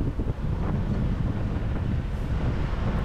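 Crosswind from the left buffets the microphone during a UFOLEP amateur bicycle road race, a steady low rumbling wind noise with gusty fluctuations.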